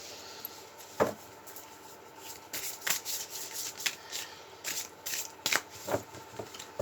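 Tarot cards are handled, shuffled and laid down during a reading, giving soft close rubbing and flicking sounds in irregular bursts with a few sharper slaps, no talk heard.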